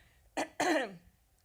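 Two short, rough throat-clearing bursts close by, the second longer and gravelly, followed by quiet.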